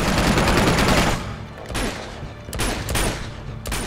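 Gunfire in the action video game Uncharted 2: Among Thieves, a loud rapid burst of shots followed by several separate bursts with short gaps between them, heard without any talking.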